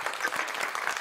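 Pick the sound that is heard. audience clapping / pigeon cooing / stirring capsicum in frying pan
audience clapping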